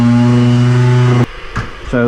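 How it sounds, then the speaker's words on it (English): A cheap electric sander runs close and loud with a steady droning motor whine, cuts out abruptly, gives a couple of brief bumps, then starts to spin up again at the very end. "Got myself a sander, cheap sander from Wix's."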